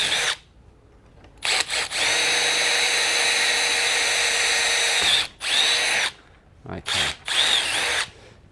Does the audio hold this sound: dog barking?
no